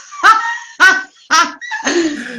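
A house dog barks four times in quick, loud, close bursts with short pauses between them, and no one speaks.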